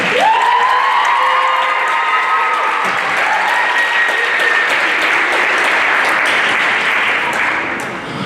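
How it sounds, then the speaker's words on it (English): Loud, sustained applause from a high school spring concert audience, steady dense clapping filling the hall for about eight seconds, with faint tonal notes from instruments early on before tapering slightly at the end. "round of applause for Sarah Gardner"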